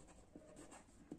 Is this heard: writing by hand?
yes